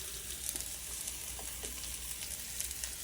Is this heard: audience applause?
no